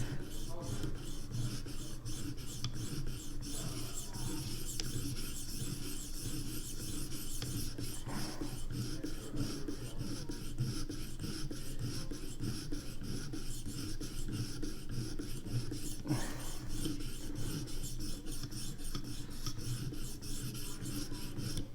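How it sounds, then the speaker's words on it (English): Steel knife blade stroked repeatedly along a Vipersharp sharpening stone, a continuous rapid rasping scrape close up with a slight swell around the midpoint, no voices. "Put a little on your blade and it'll run down in there as you're sharpening."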